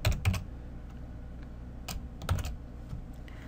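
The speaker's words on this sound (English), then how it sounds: "So let's type test message again." Short bursts of typing on a computer keyboard while entering a test message in Excel VBA, with quiet clicking keystrokes clustered at the start and again midway, alone with no talk.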